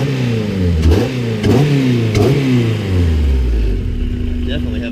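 A Nissan 240SX with a swapped Honda K24 engine and an exhaust leak revs up three times in quick succession, each climb rising and falling back, then settles toward a steady idle; loud and close.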